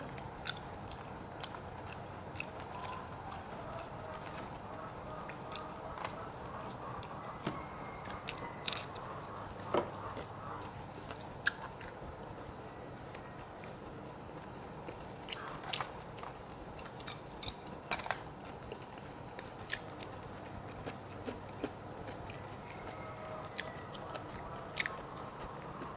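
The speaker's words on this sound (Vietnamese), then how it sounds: "Mình ăn nó sẽ bập bập và nó sẽ tan. Mình nhai cái nó tan ra cả." Close, quiet chewing of raw salmon sashimi and other seafood, soft wet bites and smacks with small clicks and crunches scattered irregularly over a long stretch, no talking.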